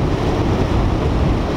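Heavy ocean surf at Sendai Shinko beach as Typhoon 13 approaches, a loud continuous roar of breaking waves mixed with strong wind buffeting the microphone, with no voices.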